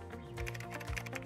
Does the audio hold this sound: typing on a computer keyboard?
yes